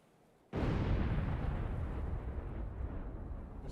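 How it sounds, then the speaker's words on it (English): A sudden loud explosion in a video game bursts in after a short quiet moment and rolls on as a heavy, sustained rumble that fades only slightly. "What's the explosion?"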